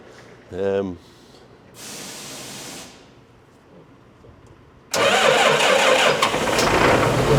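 A brief voice-like sound, then quiet before an engine with over 10,000 hours on it cranks and catches, running loudly and roughly up close until the end.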